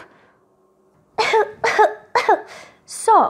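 A quiet pause, then a run of four or five harsh, close coughs in quick succession.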